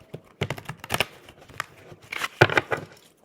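Tarot cards being shuffled by hand, giving a run of papery riffles and taps in short bursts, close up and fairly quiet, with no talking.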